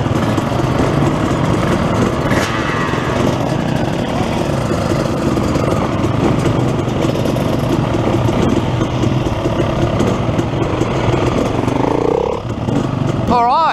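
A dirt bike engine drones loudly and continuously while riding through dusty, rocky high country, its pitch rising and falling slightly with the throttle.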